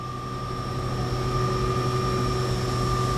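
A 15 horsepower lathe with live tooling runs steadily in a shop, a continuous machine drone with a constant whine and several fixed tones, even and unbroken.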